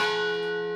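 A single loud bell strike used as a shame sound effect rings out once with a bright metallic attack, then sustains and slowly decays in a clear tonal hum.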